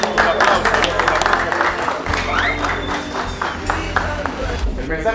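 Dense audience applause and cheering on a television show, loud and continuous, with voices shouting through the clapping.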